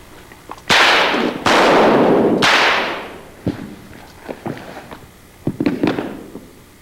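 Three loud, sharp gunshot-like cracks go off in quick succession during a gun-draw duel, each with a ringing tail, followed by scattered quieter knocks and thuds.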